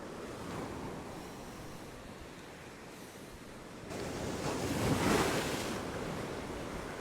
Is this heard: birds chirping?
no